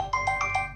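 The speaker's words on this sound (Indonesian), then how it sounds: "Maaf ya, ada telepon bunyi tadi" Phone ringtone chiming in four quick melodic pulses, a repeating electronic pattern, moderately loud and clear over a low background hum.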